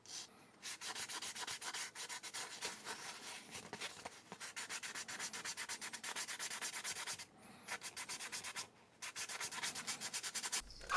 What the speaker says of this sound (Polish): Chyba najwygodniej to zrobić przy pomocy elastycznej gąbki ściernej.